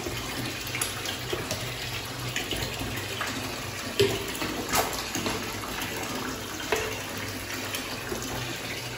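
Warm water pours steadily from a tap into a bathtub while bubble wash is added, a continuous close gush and splash with a few louder splashes and no talking.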